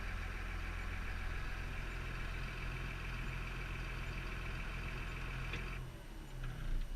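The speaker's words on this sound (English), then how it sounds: "it's always good to let the machine sit idle for a minute or two after running it" A Caterpillar D6N bulldozer diesel engine idles steadily after running, a constant low rumble with a faint high whine, close and even before a brief dip near the end.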